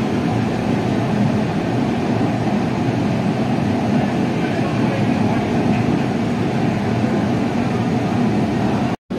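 Kolkata Orange Line metro train running between stations, a steady loud rumble and hum of the carriage with wheel and motor roar, continuous throughout and cutting out abruptly at the very end.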